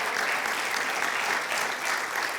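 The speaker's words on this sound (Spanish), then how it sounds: "Dale el aplauso a Jesús." A church congregation applauds, a steady dense wash of clapping from many hands, full and close, sustained without a break.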